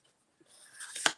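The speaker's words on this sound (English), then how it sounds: "I'm going to use my trimmer rather than my scissors because it'll be straighter." A paper trimmer slices a straight line through cardstock for a homemade pickleball card, a soft rising swish of the blade ending in a sharp, close snap.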